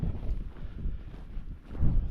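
Strong stormy wind buffets the microphone in a sheltered dip by parked boats, producing a low, rumbling, uneven roar that swells and dips for a couple of seconds.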